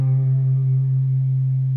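A single sustained electric guitar note in the style of a rock solo, held with gentle vibrato wavering the pitch for under two seconds, played alone.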